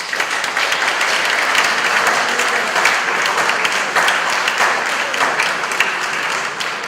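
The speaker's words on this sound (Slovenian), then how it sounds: "In močan aplavz za Nives." Strong, sustained audience applause for an honoree at an anniversary academy ceremony of a museum society, a loud, even wash of many hands clapping throughout.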